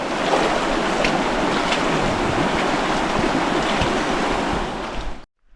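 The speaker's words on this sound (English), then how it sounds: "What is hopefully the last creek crossing." Someone wades through a deep creek on a backcountry hike, with loud, continuous rushing and splashing water that fills the whole clip before cutting off abruptly.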